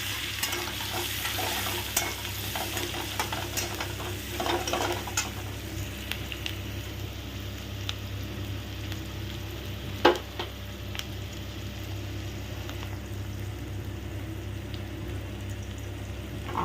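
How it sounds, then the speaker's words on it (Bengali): Onions fry in a pan with salt and turmeric while being stirred, giving a low continuous sizzle with scattered scrapes and one sharper knock partway through. "দিয়ে এটাকে একটু নেড়ে নাও"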